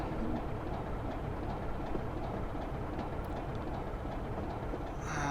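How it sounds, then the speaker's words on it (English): A BR Class 25 diesel locomotive in a railway simulator rumbles steadily at a constant drone, with a faint rhythmic thrum and wheel noise throughout and a brief brighter hiss near the end. "It's the downside of a diesel. The constant sort of rhythmic nature of it can put you to sleep."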